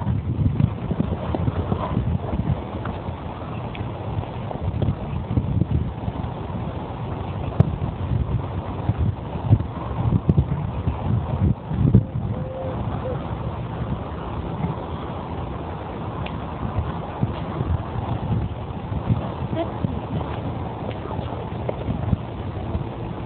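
A ridden horse clip-clops along at a steady walking rhythm, hooves close and fairly loud under heavy wind buffeting on the microphone, continuous for over twenty seconds.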